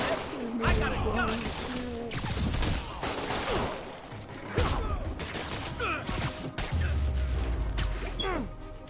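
Gunfire, crashes and thwacking blows fill a brawl in the Spider-Man PS4 video game, loud and dense with whooshes and bursts, while someone talks and exclaims over the action.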